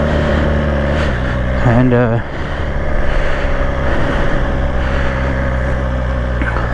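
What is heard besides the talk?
2020 BMW S1000XR motorcycle engine running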